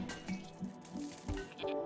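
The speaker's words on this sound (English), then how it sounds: "woozy sheep is puking" Wet, squishy dripping and splattering noises of a sheep vomiting in RimWorld, a few soft gloopy bursts with faint clinks in between.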